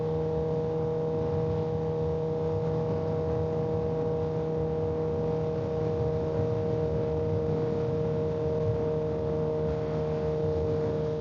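A motorcycle being ridden produces a constant, even engine drone with steady humming tones and rushing noise, unchanging for the whole stretch, with no voices.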